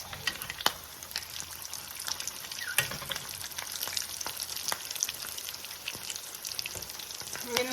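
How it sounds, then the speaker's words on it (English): Chorizo potato taquitos sizzle in a frying pan, with a steady crackling hiss dotted with sharp pops and spatters throughout, and no voices. "it'll start splattering everywhere because of the chorizo potato mixture that comes out of the ends"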